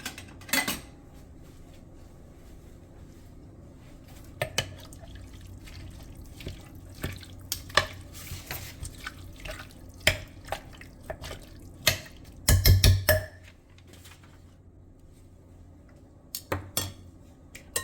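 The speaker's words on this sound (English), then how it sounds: "I'm going to go ahead and add this to my crock pot. And what I'm going to do is I'm going to stir." Gumbo greens are stirred in a crock pot, with scattered spoon clinks and scrapes against the pot over a quiet background and a brief cluster of louder clatter.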